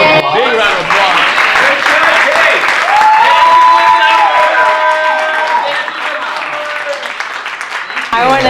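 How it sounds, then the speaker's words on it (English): Audience applause closing a panel discussion, a dense, sustained wash of clapping with scattered cheers and whoops that holds loud for several seconds before thinning slightly near the end. "Can we give her a round of applause? Big round of applause."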